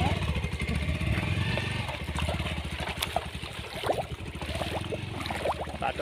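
Motorcycle ridden along a muddy, slippery village road after a flood in Chepti, Nepal, its engine running steadily throughout with close, continuous rumble and a few brief splashy or clattering accents.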